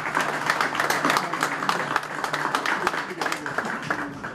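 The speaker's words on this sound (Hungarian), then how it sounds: "Ez a csodás pályafutás megérdemel egy nagy tapsot." Applause from a studio audience honoring a footballer's great career on a Hungarian local TV news program, steady dense clapping throughout with some voices mixed in.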